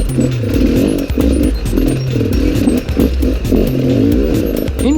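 An enduro motorcycle labours over loose rocks, its engine thrumming loud and close at low revs with repeated surges, while stones clatter and scrape beneath the tyres throughout.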